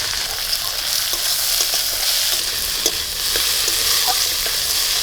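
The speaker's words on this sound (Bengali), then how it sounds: "পেঁয়াজটা হালকা ভেজে নিয়েছি এবার রসুনটা দিয়ে দেবো রসুন বাটা" Garlic paste frying in oil with lightly fried onions for a mutton dish, giving a constant loud crackling sizzle with small spatters and occasional stirring, close by and without voices.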